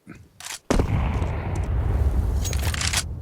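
A grenade blast in Counter-Strike during a pro match at IEM Cologne, one loud sudden boom that rolls into a sustained rumble, with short game sounds just before it.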